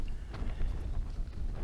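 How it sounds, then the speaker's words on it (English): Strong gusts buffet the microphone at a wild camp on Coldlaw, a rough low rumble that surges and dips unevenly throughout. "The wind came up."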